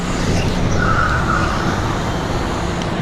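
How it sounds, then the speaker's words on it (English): An e-bike's brakes are clamped on hard while it rolls downhill, producing a steady, loud rushing friction noise with a faint whine partway through and no pauses. "Okay, my brakes are full on"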